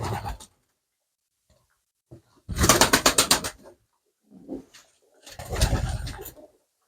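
Pigeons coo nearby in a dovecote in loud throaty bursts, two long rolling calls with a shorter one between, separated by brief silences.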